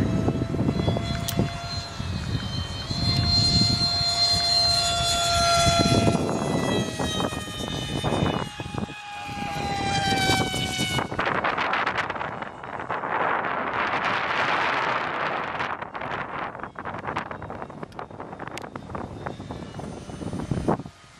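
A Skyangel F16 RC model jet on its maiden flight gives off a whooshing electric ducted-fan whine that rises and falls as it passes, mixed with gusty wind buffeting the microphone outdoors.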